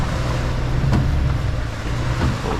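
A Mercedes Actros truck spins its wheels in mud: a low, steady engine drone rumbles up close, broken by a few brief knocks and thuds.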